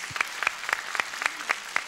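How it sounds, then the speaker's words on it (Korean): A studio audience claps at a 1986 Korean TV music show, a faint, sparse patter of separate claps in a steady rhythm, heard alone without speech. "여러분 다시 한번 박수를 부탁드리겠습니다"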